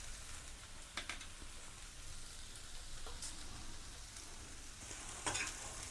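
Okra frying in a pan for a roti chutney, a soft continuous sizzle with occasional scraping clicks as it is stirred, close and fairly quiet, with no talking.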